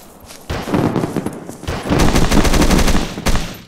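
Rapid bursts of gunfire ring out in the video game Wasteland, a scattered opening shot followed by a dense automatic volley, loud and close with no voices.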